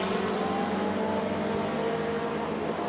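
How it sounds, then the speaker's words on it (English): Racing cars at speed at the Silverstone Festival, a BMW working around the outside of a Ferrari, make a steady, dense engine roar that holds continuously throughout without a clear pass-by swell. "Brian Brantham in the BMW trying to go around the outside of the Ferrari"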